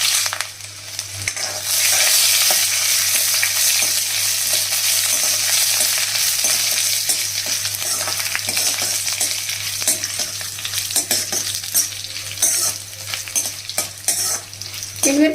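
Dried red chillies fry in 2–3 spoons of hot oil in a kadai, a loud, continuous close-up sizzle with crackling and scraping stir noises throughout.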